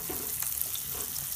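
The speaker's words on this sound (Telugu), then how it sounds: "ఒక 2 నిమిషాలు మగ్గాలి ఇవి" Soya nuggets and onion cook in a pan with a faint, steady sizzle, a brief quiet crackling with no other sounds.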